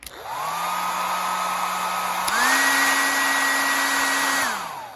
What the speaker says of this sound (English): an old hair dryer